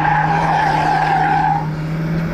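A VW Golf I slides with its tires squealing in a sustained, loud skid that holds a steady whine for over a second before fading into engine noise, close by and without talk.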